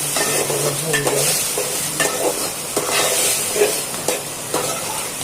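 Potatoes sizzle in a hot pan as they are sautéed for a carp fish curry, with continuous frying hiss and repeated scraping stirs of a spoon against the pan, close up.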